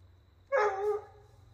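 A Blue Gascon hound puppy on a creekside trail in Texas lets out a single short bark that trails into a yelp, close by against quiet background hum.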